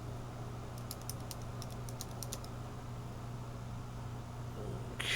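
A burst of quick keystrokes on an iBook G4 laptop keyboard as a password is typed, light close clicks in a short run over a steady low room hum, then quiet.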